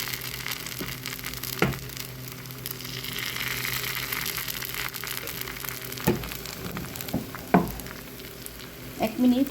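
Patishapta batter fries in a pan with a steady, close sizzle, punctuated by a few soft scraping or tapping touches toward the end.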